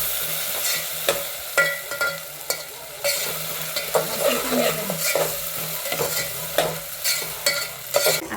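Vegetables such as carrots and peas sizzle in a pan with ginger-garlic paste for village-style masala rice, with repeated scraping stirs of a spoon against the pot over a constant frying hiss.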